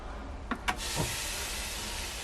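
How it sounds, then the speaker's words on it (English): Steady broadband hiss of food sizzling in a hot pan, continuous and close, with a few clicks of tongs near the start. "I'm just gonna use some tongs and you should hear it sizzle."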